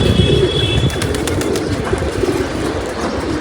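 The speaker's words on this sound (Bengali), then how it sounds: "আরো দুইটা কবুতর একসাথে আসছে" Pigeons, a male and a female among them, fly in to a loft, with soft cooing and light wing flutters over a steady outdoor background hum. The sounds are continuous and fairly loud, and no one speaks.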